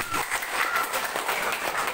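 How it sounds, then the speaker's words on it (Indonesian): Audience applause at a company gathering in Indonesia, a steady wash of many hands clapping filling the whole stretch at moderate loudness, with no voices standing out. "Tepuk tangan buat Mas Leri"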